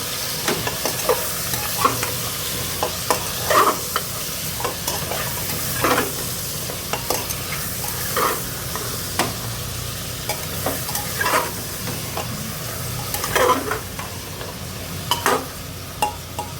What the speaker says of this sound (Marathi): मटण आपण तेलावर 3 ते 4 मिनटं चांगलं परतून घेऊया.